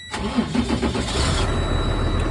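A box truck engine cranks briefly after fuel line priming, catches and settles into a steady low diesel idle, close and loud.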